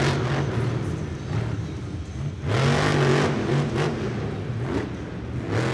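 A Monster Jam monster truck roars inside a domed stadium, its engine loud and continuous with repeated throttle surges and revving bursts over crowd and arena noise.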